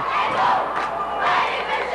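Hockey crowd at Hunt Arena in River Falls roaring and cheering during a high school game, a dense, loud wall of voices swelling in waves.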